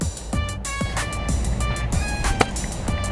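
A Mazdaspeed car's engine drones loudly and close, with a steady rough hum and pulsing surges, a brief sharp knock near the end.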